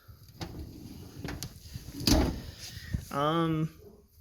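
A drawer of a welding and machinist toolbox, used for corded tools, slides and knocks in a few sharp clicks and thuds, with a person speaking nearby.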